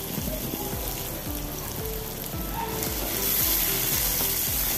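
Cauliflower and tomato frying in a pan for curry, steady loud sizzling with repeated scraping stir sounds, a bright hiss that grows slightly louder toward the end.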